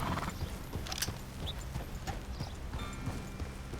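Horse hooves trot in Red Dead Redemption 2, a steady, close clip-clop rhythm on a road with faint tack and ambient game sound, no talking.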